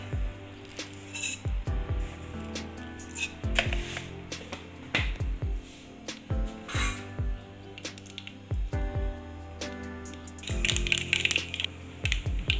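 Mustard seeds pop and splutter in hot oil while a ginger lemon rasam is tempered, giving sharp, irregular crackles and clinks close by, with bursts of dense popping and no talk.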